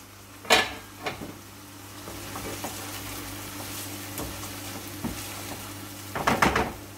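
Potatoes and chicken fry in a pan for a Shimla chicken aloo dish, a soft steady sizzle broken by sharp clinks and scrapes of a utensil against the pan, with a louder clattering burst near the end.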